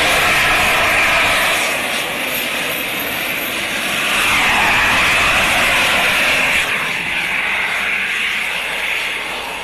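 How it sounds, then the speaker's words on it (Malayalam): A Gravity Industries jet suit from the UK, capable of about 80 mph, flying out from a hotel helipad: a loud, continuous jet roar with a slow swell and fade in intensity and no voices. "UK-യിലെ ഗ്രാവിറ്റി ഇൻഡസ്ട്രിയിൽ വികസിപ്പിച്ച ജെറ്റ് സൂട്ടിൽ മണിക്കൂറിൽ 80 മൈൽ വേഗത്തിൽ വരെ പറക്കാൻ കഴിയും"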